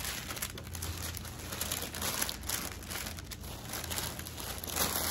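Tissue paper from a parcel's luxury packaging crinkles and rustles continuously up close as it is unwrapped by hand, a steady papery crackle with no talking.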